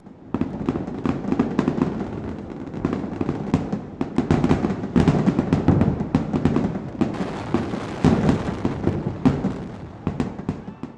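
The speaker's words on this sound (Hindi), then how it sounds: "उत्सव का समापन भव्य आतिशबाजी के साथ होता है।" A grand fireworks display closes a festival in India, with dense, loud bursts and crackling pops that go on without a break. Explosions overlap in irregular clusters throughout.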